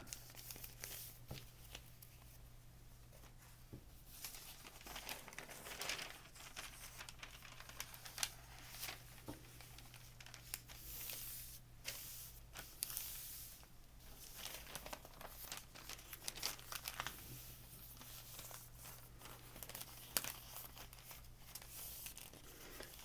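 Large sheets of packing paper being crumpled and crinkled, a soft, continuous rustling with brief crisp crackles that runs on and off for over twenty seconds, close and quiet with no voice.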